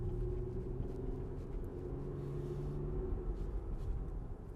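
A 2022 Lexus RX 350 speeding up, heard from inside the cabin as a steady, subdued low engine and road rumble that stays smooth and quiet throughout, with no speech.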